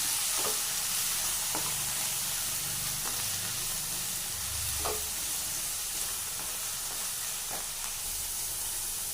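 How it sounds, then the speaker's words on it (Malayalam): Soaked, cut brinjal being sautéed in a pan over lowered heat, a constant hissing sizzle broken by periodic scraping strokes of a spatula, close and fairly loud, with no talk. "അതൊന്ന് വഴറ്റാം."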